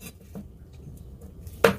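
A cleaver chops the feet off a squab on a kitchen board: faint quiet handling, then a single sharp, close chop near the end.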